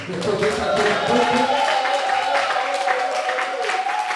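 Church congregation at a worship service clapping in acclamation to the Lord, a steady wash of many hands close by, mixed with raised voices and sustained tones from singing or music.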